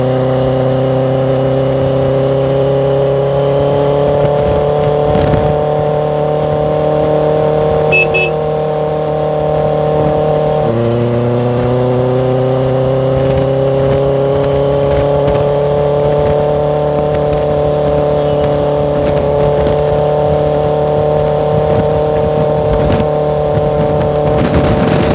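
A 2023 Benelli TnT 600GT motorcycle fitted with an Ixil 55 exhaust rides along with a loud, steady engine drone, dipping briefly at a gear change midway before settling back into the same even tone.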